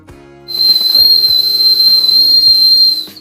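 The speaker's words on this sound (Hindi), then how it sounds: "कौन है जो सीटी बजा रहा है बार बार?" A shrill, sustained whistle blast rings out over quiet background music, holding a steady high pitch for a few seconds before cutting off.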